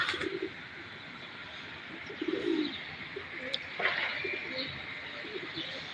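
Pigeons coo softly in a few low, rolling calls, fairly faint against a quiet outdoor background with some light chirping.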